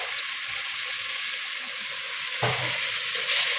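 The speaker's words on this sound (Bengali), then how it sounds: "গুঁড়ো মশলাগুলো দেওয়ার পরে আবারও ভালো করে এইভাবে নাড়াচাড়া করে নেব।" Spiced masala of salt, turmeric, cumin-coriander powder and Kashmiri chilli sizzles steadily in a pan for crab curry. A louder stirring scrape comes near the end, with no talking.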